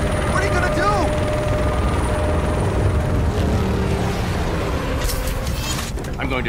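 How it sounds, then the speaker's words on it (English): Attack helicopter in the Batman Arkham Knight video game, a loud continuous rotor and engine drone filling the scene throughout, with game voices and effects layered over it. "He's got an attack chopper!"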